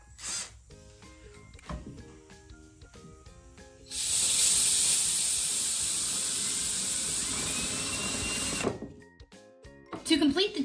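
Compressed air blowing remaining dust off a wooden bathtub tray, a loud steady hiss lasting about five seconds, with quieter workshop sounds and handling noises before and after.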